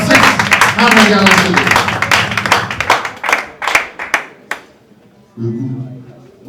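Clapping at a book launch auction after a copy sells for 600 Ghana cedis, a brisk round of hand claps that thins to a few sharp claps before a voice resumes.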